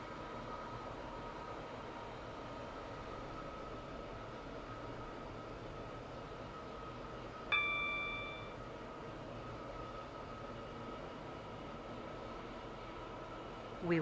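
A train in the Stepford County Railway game rolls along steadily with a low, even rumble, and a brief tonal chime or squeal sounds about halfway through.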